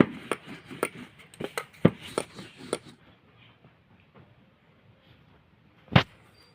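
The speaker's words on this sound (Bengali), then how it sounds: "একইভাবে আমি রুটিটা কেটে নিচ্ছি" A knife cutting rolled dough for nimki on a board, with a quick run of sharp, close chopping taps in steady rhythm, then a pause and one final firm thud.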